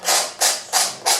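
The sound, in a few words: scraping oil paint off a painting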